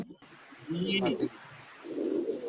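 A female pigeon gives two short, throaty coos close by, separated by a brief pause, over faint background hiss.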